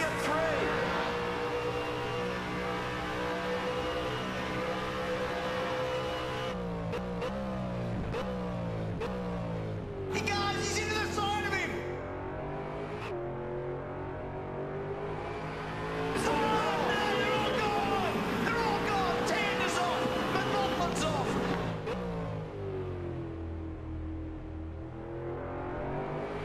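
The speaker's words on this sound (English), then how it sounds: "That is a full lap of Bathurst at full race pace in a V8 Supercar." A V8 Supercar laps Bathurst in the rFactor 2 racing game, its engine droning and sweeping up and down through gear changes, cutting off briefly on downshifts, with someone talking over it.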